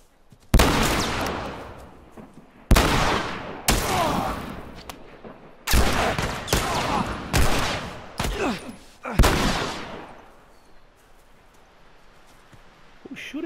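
Enemies firing guns in The Last of Us Remastered, about eight loud, echoing shots spaced a second or two apart, each with a reverberant tail, then fading into quiet.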